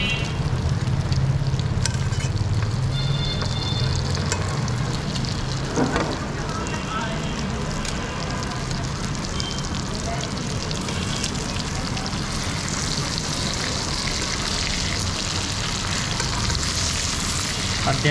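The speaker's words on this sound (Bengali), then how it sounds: "আমি এখন এটার মধ্যে আমার স্টেকের পিসগুলো দিয়ে দিব" Beef steak pieces sizzling as they hit a hot pan, a loud steady crackling fry that carries on throughout, with a person talking over it.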